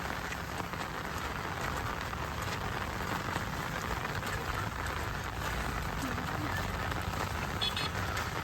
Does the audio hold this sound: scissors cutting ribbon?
no